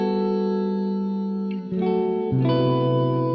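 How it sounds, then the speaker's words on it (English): Cathedral hall reverb plugin washing sustained synth chords into a long, lush decay, the tone shifting twice as new chords enter, steady and fairly loud with no voices. "A very nice hall, cathedral."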